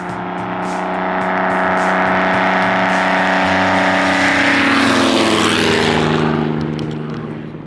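A 65-year-old airplane's engine runs loud and steady, rising in pitch and volume toward the middle before easing slightly, a continuous droning roar with no talk.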